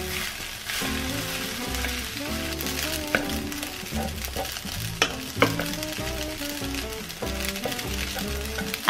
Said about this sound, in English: cook until you can hear the sound of the rice jumping on